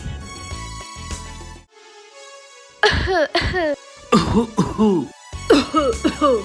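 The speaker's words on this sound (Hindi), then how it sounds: "ज्यादा खांसी आ रही है" Several harsh coughs in quick bursts, close by, after a stretch of quiet and a brief musical tone.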